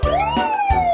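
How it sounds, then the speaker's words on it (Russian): A two-tone ambulance siren wails steadily in a children's song, its pitch gliding up and down continuously, loud and close with no talk over it. "Сирены скорой помощи, вау-вау-вау, вау-вау-вау, вау-вау-вау."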